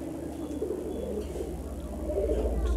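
High-flyer Giribaz pigeons coo softly in a low, throaty rumble that repeats over a steady background hum, fairly quiet and close, with no talking.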